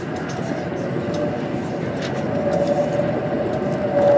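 A bullet train carries passengers at high speed, about 291, with a steady, loud interior roar and rumble that swells slightly toward the end, heard alone without speech.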